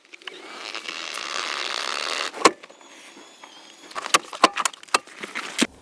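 Electric rear seats in a fourth-generation Kia Carnival seven-seater motor smoothly into a flat camping mode, a steady mechanical hum for a couple of seconds followed by scattered clicks and knocks.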